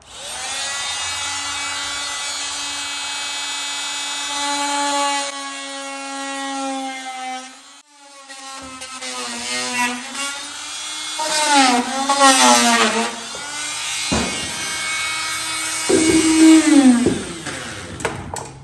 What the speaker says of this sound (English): So I'll get out my handy dandy little power chisel and I'll notch that out.